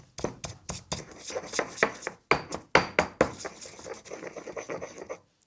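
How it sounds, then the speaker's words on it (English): Garlic and salt being pounded in a mortar with a pestle: a rapid series of sharp, close thuds and grinding scrapes in an uneven rhythm, a few strokes heavier than others, fading near the end. "So straight into the mortar and pestle."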